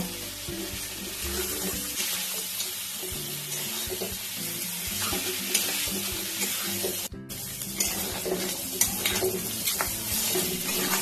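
Fried crabs and potato in spice masala being stir-fried in a pan, with a steady close sizzle and scraping stir for the full stretch and no voices.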